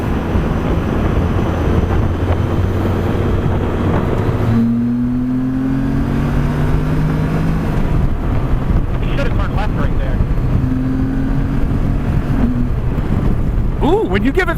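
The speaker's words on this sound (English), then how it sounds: "when you give it throttle and like shift under full throttle, it shifts pretty good" A 2023 Can-Am Spyder three-wheeled motorcycle accelerates at full throttle on a demo ride, its engine tone climbing and dropping with gear shifts under steady wind rush, with riders talking over intercom.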